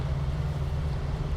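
A steady, low truck engine drone in the game SnowRunner, a Scout 800, with a constant rumbling hum, loud and unbroken throughout, with no talking.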